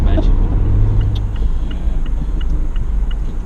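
A 2016 Mazda MX-5 ND roadster driving along, its engine a steady low rumble with road noise, continuous and close throughout.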